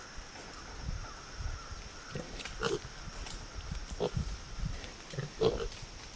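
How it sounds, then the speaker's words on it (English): Pigs grunt in short, scattered snorts close by while playing in mud on a farm, repeating irregularly over a steady background hum. "Pretty pigs, pretty pigs."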